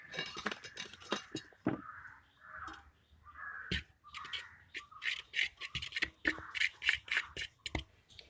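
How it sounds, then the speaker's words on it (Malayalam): Egg is mixed into a thick marinade batter in a bowl for whole chicken, with a spoon clinking and scraping in quick irregular strokes close by, and no talking. "ഒരു മുട്ട ചേർക്കാം കേട്ടോ അപ്പം നമ്മുടെ മുട്ട ചേർക്കാം നമുക്ക് നന്നായിട്ടൊന്ന് മിക്സ് ചെയ്യാം"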